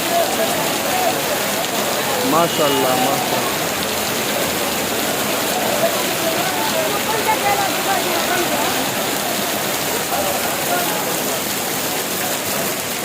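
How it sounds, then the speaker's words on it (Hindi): Heavy morning rain pouring down on a vegetable market on Super Highway in Karachi, Pakistan, a steady loud dense hiss throughout, with someone speaking briefly over it. "अभी सुबह 9 बजे के बाद बहुत तेज़ बारिश हो रही है, बहुत तेज़।"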